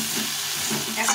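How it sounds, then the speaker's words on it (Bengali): Bengali spice paste frying in oil for a shol fish curry, a close continuous sizzle and hiss with faint stirring underneath, short and steady. "তো এইভাবে কষিয়ে নিয়েছি ভালো করে, তারপর তেল ছেড়ে দিয়েছে।"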